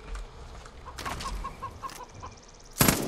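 A chicken in the video game Far Cry 5 gives a run of quick, evenly spaced clucks, fairly quiet, followed by a sudden loud burst of flapping and squawking near the end.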